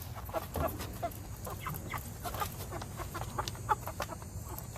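Meat chickens clucking and murmuring as a dense flock just before feeding time, many overlapping soft calls at steady close range, with a few louder squawks rising above the continuous barnyard chatter.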